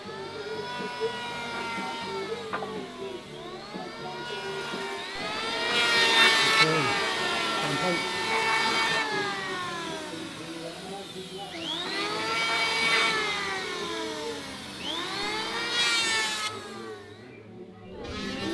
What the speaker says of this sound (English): Sound of bandsaws and sanding